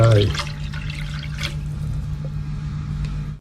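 Coconut milk and fresh milk are poured into a pot for a red-pork rice sauce, a steady close liquid splash and gurgle that follows a brief voice at the start.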